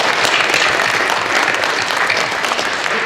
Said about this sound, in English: Give my 2 illustrious advisors